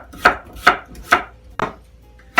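A knife slices through red potatoes on a cutting board in five sharp, crisp chops spaced roughly half a second apart, close and loud with nothing else heard.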